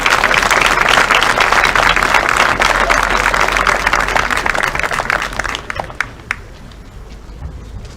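Dense applause from a seated crowd at a high school football awards banquet, loud and sustained for about five seconds before thinning to scattered claps and quiet.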